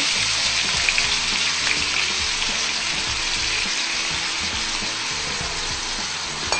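Garlic and onion fry in a pan with soy sauce and boiled lempo, giving a loud, constant sizzle with light stirring scrapes underneath, no voices.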